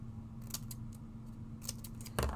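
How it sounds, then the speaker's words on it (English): Scissors snip through foam tape in a few short, crisp cuts spread across the moment, set against a steady low background hum. "you can just cut out whatever size pieces you need"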